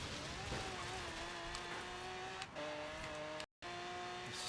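A racing video game car with rear wings holds a steady high-gear engine drone, the tone stepping up slightly as it pulls hard, with a brief dropout near the end and faint talk underneath.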